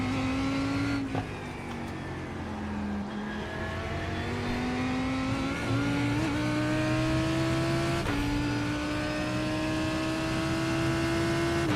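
GT3 race car engine in a racing sim at Sebring, a loud continuous drone with steady harmonic tones shifting in pitch as the revs rise and dip, close and dominant throughout with no talk.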